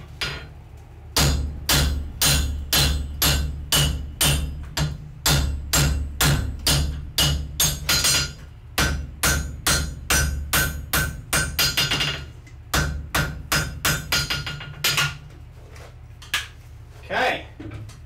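Steady, ringing hammer blows on hot wrought iron at an anvil, struck in quick rhythmic runs with brief pauses, loud and close, with a short bit of talk near the end.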